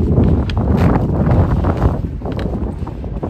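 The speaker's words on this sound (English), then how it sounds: "I don't know if you guys can hear me either, because it's very windy" Continuous wind buffets the microphone, producing loud low rumbling gusts that rise and fall throughout.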